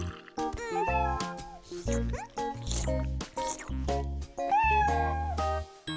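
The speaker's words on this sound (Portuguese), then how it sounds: "Aqui há um gatinho. Seu miado soa tão calmo" A cartoon kitten meows calmly several times in short, soft, tuneful cries, with gentle musical tones between them and no talking over the top.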